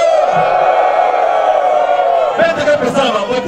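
A crowd at a gathering cheers and yells, a loud sustained roar of voices with whoops, breaking into scattered clapping toward the end.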